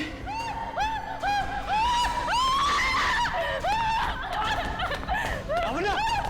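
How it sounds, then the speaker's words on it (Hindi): A woman screams again and again in shrill, rising and falling shrieks over a background of other voices and commotion, loud and close throughout. "ये कैसे चीख है?"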